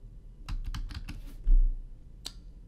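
A run of quick computer keyboard keystrokes typing in an order number: a burst of close, crisp clicks, a short pause, then one final key tap, alone without talk.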